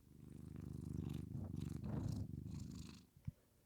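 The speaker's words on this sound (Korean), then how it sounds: "네, 엄청 그르릉거리죠." A house cat purrs steadily and close up, a continuous low rumbling throb that carries on for several seconds with no one talking, then a short sharp knock near the end.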